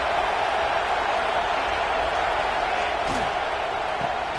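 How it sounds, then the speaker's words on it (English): Stadium crowd noise from a college football video game, Auburn against LSU, a loud steady roar from a packed stadium swelling behind a red zone defensive stand, continuous with no breaks. "here comes the noise. This crowd is trying to inspire this defense to make a big red zone stop."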